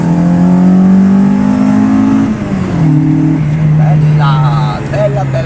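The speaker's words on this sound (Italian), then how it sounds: "Sta arrivando un mio amico con una Golf." A Volkswagen Golf GTI engine revs loud and close, its note holding steady then stepping up and down in pitch, with voices talking over it.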